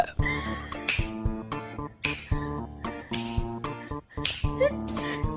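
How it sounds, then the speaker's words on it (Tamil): Sharp finger snaps beside a sleeping cat, repeated in a loose rhythm of about six crisp clicks, close and distinct over a backing of bright tonal music. "தூக்கத்துல சொடக்கு போட்டதும் பூனை கொடுக்குற ரியாக்ஷனை பாருங்க."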